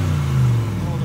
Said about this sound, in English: Go on, hit that pipe for a second. Let me hear it.